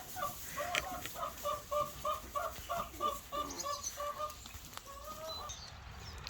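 Farmyard chickens cluck in a quick, steady series of short calls while waiting near feeding livestock, fairly close but soft, with no talking over them.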